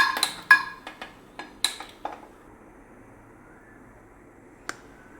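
Metal pan being picked up and set down on a gas stove burner in a home kitchen while making paneer bhurji: a quick series of sharp clinks and knocks, close and fairly loud, then a quiet pause with one last small tap.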